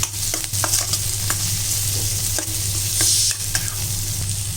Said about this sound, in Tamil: இதிலே கேரட், பீன்ஸ் போட்டுக்கலாம். இதையும் நல்லா வதக்கிடலாம்.